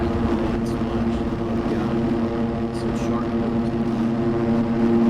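Motocross bike engines at an MX2 pro class race at Redbud in Buchanan, heard as a loud, constant multi-engine drone with a steady pitch, with voices faintly over it.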